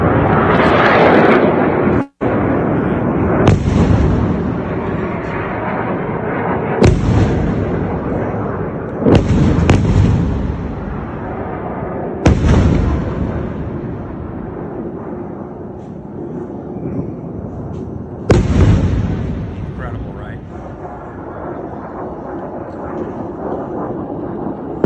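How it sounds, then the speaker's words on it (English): A series of heavy booms and sharp blasts from Iron Dome interceptions of rockets over Israel echo across the sky at irregular intervals over a continuous low roar, loud and distant. "the explosions are the Iron Dome intercepting those rockets"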